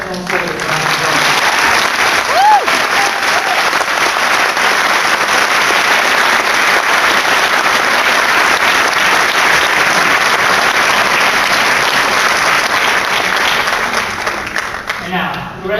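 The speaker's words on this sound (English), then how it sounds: "please give these exceptional soldiers a round of applause" Loud, sustained applause from an audience at a military graduation for the soldiers of class 1613, with dense clapping and cheering that continues for about fifteen seconds.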